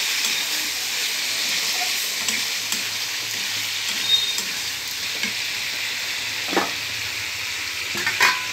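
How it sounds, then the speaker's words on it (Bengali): Spiced masala sizzles in a pan after a splash of water for a crab and potato curry, a steady close hiss with occasional scraping stirs and small pops, no talking. "এরপরে আমি একটু জল দিচ্ছি, দিয়ে আর একটু কষিয়ে নেব।"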